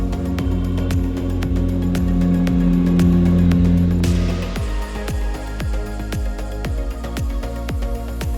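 Toyota Camry engine revving and straining on a narrow dirt road, heard close with a rising then falling engine note and a rapid series of clicks and knocks from the car.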